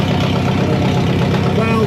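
An old Farmall 400 tractor that sat unused for two years idles right after start-up, its engine running rough and loud with a steady close-up rumble, a busted exhaust manifold and hydraulic leak noted.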